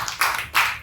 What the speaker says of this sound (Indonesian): Boleh tepuk tangan buat Astro.